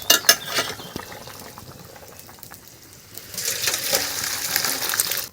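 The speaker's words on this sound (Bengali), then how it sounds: "এবার ঝোলটা আমার ফুটে গেছে" Fish curry with pointed gourd bubbling in a pot, a steady hiss and simmer that swells louder in the second half, with a few clinks of a utensil against the pot near the start.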